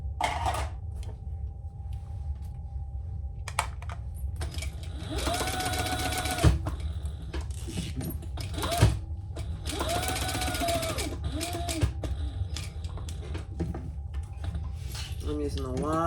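A sewing machine stitches a sling bag in several short runs of rapid mechanical chatter, separated by pauses, clicks and handling noises, with someone talking in between.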